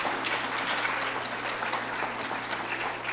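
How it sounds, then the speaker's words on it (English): Wedding guests applaud together during a ceremony, a steady, dense wash of clapping that holds evenly throughout without pauses or voices over it. "I think it would be appropriate to applaud."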